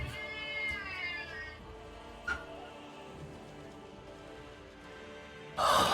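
A cat meowing at a door, a drawn-out wavering meow up close followed by a quieter short one, with a rustling burst at the end.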